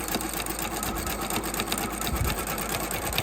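A sewing machine runs steadily, stitching around the edges of fabric for an Easter basket with a fast, even mechanical whir up close and no voices.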